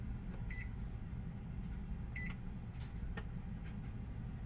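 An oven's control panel beeping as it is set to preheat to 350 degrees in a home kitchen, a few short electronic chirps spaced apart over a steady low background hum.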